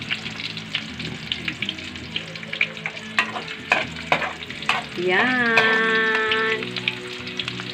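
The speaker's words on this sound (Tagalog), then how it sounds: "Inuna niya muna yung bawang." Garlic frying in a home kitchen pan crackles and sizzles steadily while a utensil clatters and scrapes in sharp knocks, with a brief tonal squeal of sizzle partway through and a short spoken word at one point.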